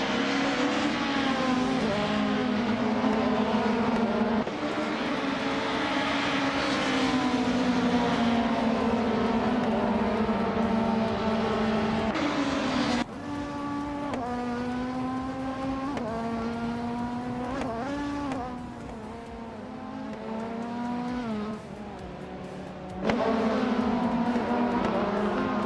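Racing-game car engines, including a 1999 Opel Vectra, drone and whine steadily with shifting pitch as gears change and cars jostle, loud and continuous with brief drops and surges.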